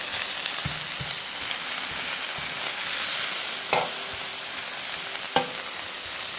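Samgyeopsal pork belly fries in a pan with a steady close sizzle, broken by occasional sharper pops and spits of fat and a few soft scraping stirs.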